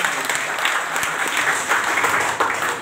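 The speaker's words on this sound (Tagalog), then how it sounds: "Palakpak po at yan ang sabi ng palakpak." Audience applause rises for an award citation at a recognition ceremony, dense and continuous clapping that stays loud for the whole stretch.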